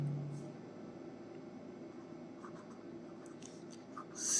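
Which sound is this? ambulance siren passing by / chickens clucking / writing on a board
writing on a board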